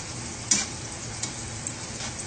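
Powdered soup mix being stirred in a pot, giving a soft steady scraping hiss with a few light knocks of the spoon against the side.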